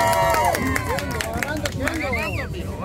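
An audience at a prize game claps and cheers for a contestant, scattered claps mixed with lively shouting and excited voices, close and loud throughout.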